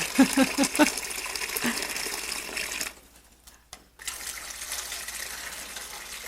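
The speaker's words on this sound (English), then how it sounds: "I'm sorry, my assistant is watering." Water running steadily as someone waters rabbits, a continuous splashing gush that drops out for about a second midway, then resumes at moderate loudness, with a few faint clinks at the start.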